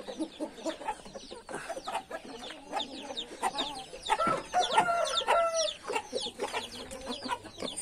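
Backyard chickens, including a young red pullet and a crested hen, cluck and chatter in short irregular bursts at moderate distance, one bird calling more sharply in the middle, with no talk over them.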